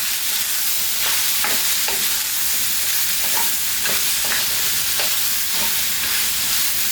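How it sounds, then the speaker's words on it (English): Peppers and onion sauté in a pan with a loud, constant hiss of frying, broken by repeated scraping stirs every half second or so, close up and with no voices. "Just want to soften up the peppers to bring out some of the flavor, soften up the onions as well."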